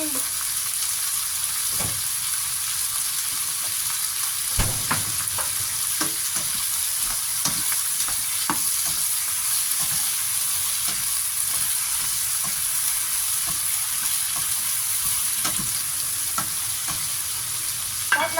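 Fish and snow peas stir-frying in a wok, a loud continuous sizzle with scattered scraping and clanks from a spatula throughout, no voices.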